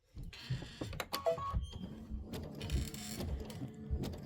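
An embroidery machine stitches an outline at around 800 stitches per minute, giving quiet, rapid mechanical ticking and whirring with intermittent clicks and short tonal beeps, fairly faint and close.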